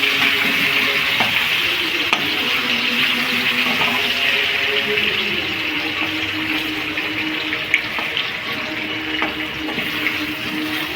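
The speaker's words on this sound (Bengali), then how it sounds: "আলুগুলো দেখেছেন কি সুন্দর ভাজা হয়েছে" Potatoes frying in oil in a pan for a soybean curry, a loud, steady crackling sizzle heard up close, with occasional light clinks and stirs and no voices.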